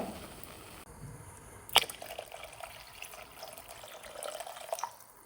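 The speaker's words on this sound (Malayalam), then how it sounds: "ഇനി ഇതിലേക്ക് നമുക്ക് നല്ല ചൂടുവെള്ളം ചേർത്ത് കൊടുക്കാം" Hot water pours and splashes into a pot of drumstick curry, with a sharp clink near the start and a running liquid sound that continues to the end.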